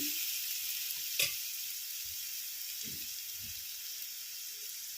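Raw banana pieces with a ground clove gravy, salt and turmeric fry quietly in a pan, a soft steady hiss with one sharp clink near the start and a few low scraping stirs.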